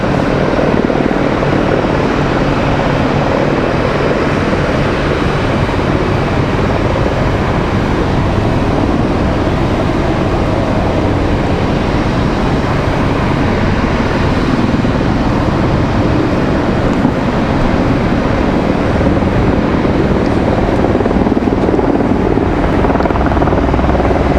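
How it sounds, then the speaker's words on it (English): Helicopters roar overhead at night near Raleigh-Durham International Airport in a steady, loud, continuous drone with rumbling rotor noise that barely changes for the whole stretch. "These helicopters are loud tonight"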